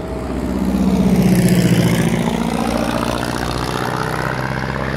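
A propeller-driven aerobatic airplane flies overhead, its engine a steady droning hum that swells slightly and then holds, with no talking.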